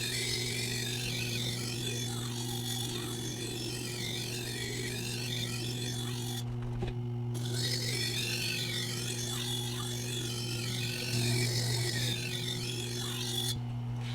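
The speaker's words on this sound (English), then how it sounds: "Dressing with that 80 grit diamond plate should allow me to aggressively remove steel off of this blade." A knife blade is worked on an 80 grit diamond plate, a close, repeated rhythmic rasping of steel in steady back-and-forth strokes with a couple of short pauses.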